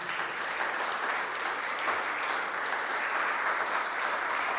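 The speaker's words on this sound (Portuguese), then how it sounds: "dê um aplauso bem lindo para Jesus" A church congregation claps steadily, a dense, even wash of many hands sustained throughout, moderately loud and without voices over it.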